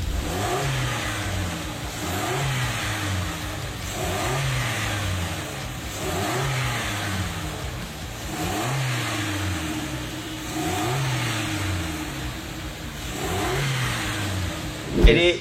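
A 1500 cc car engine revs repeatedly through a loud, throaty aftermarket exhaust, rising and falling in a steady rhythm of blips, close and continuous for the whole stretch.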